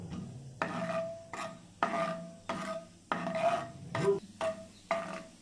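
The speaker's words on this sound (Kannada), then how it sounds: "ಈಗ ಗೋಡಂಬಿ ಒಂದು ಸ್ವಲ್ಪ ಕಂದು ಬಣ್ಣ ಬರೋವರೆಗೂ ಚೆನ್ನಾಗಿ ಫ್ರೈ ಮಾಡ್ಕೊಳ್ಳೋಣ." Cashews frying in ghee in a pan, stirred steadily: repeated rasping scrapes in regular bursts about every second over a faint sizzle, close and fairly loud, with no talking.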